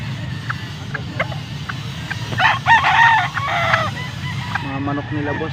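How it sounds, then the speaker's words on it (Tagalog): Several roosters crow at a Filipino gamefowl farm in Angeles, Pampanga, their calls rising loud and close in the middle while other fowl cluck around them over a low rumbling background. "Mga manok nila boss."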